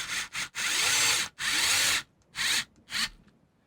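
Screws being backed out of a Nintendo GameCube shell with a hand screwdriver, giving a few close scraping, ratcheting bursts of grinding metal with short pauses between turns.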